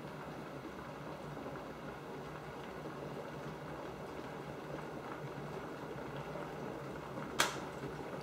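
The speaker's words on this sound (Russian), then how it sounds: "До момента закипания воды прошло 5 минут" Water heating toward a boil in an electric kettle: a quiet, steady rushing hiss and rumble that continues evenly, with one sharp click near the end.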